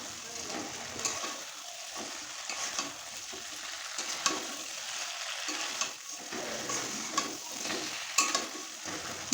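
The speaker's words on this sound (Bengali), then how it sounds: "ভেজে রাখা মাছগুলো মশলাটার ভিতরে দিয়ে এক মিনিট মতো নাড়াচাড়া করে মশলাটার সাথে ভালো করে কষিয়ে নেব" Fried pabda fish being stirred into mustard masala in a pan, with repeated spatula scrapes and soft clinks over a steady, close sizzle.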